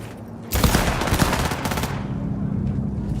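Burst of rapid automatic gunfire in Cyberpunk 2077, loud and close, a dense volley of shots lasting about a second and a half before trailing into lingering rumble and ambient noise.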